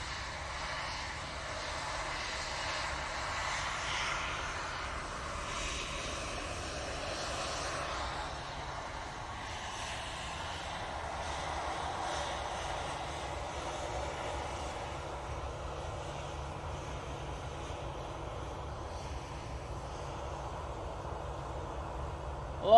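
A Boeing 787 Dreamliner roars steadily on its takeoff run at Manchester Airport, a continuous loud jet rumble that holds for the whole stretch with no talk over it.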